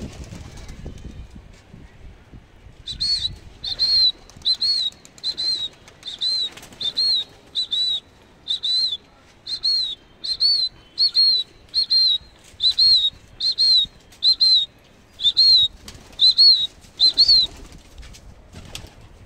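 Pigeons take flight in about fifteen regular bursts of whirring, whistling wingbeats, each lasting under a second and evenly spaced, close and clear over a quiet background.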